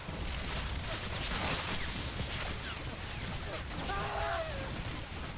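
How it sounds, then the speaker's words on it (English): Rocket barrages roar through a Warhammer 40k game mod's fortress assault, a dense continuous rumble of launches and explosions under battle noise, with whistling streaks near the end. "Oh, rockets away, boys!"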